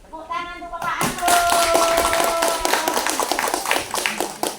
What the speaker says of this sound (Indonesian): Tepuk tangan untuk Bapak Anto.